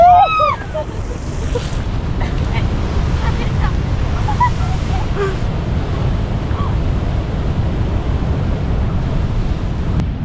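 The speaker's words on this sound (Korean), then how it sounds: "오 파도 세다 진짜" Strong ocean waves crash and roar steadily close by at Monterey Bay, California, with wind buffeting the microphone throughout.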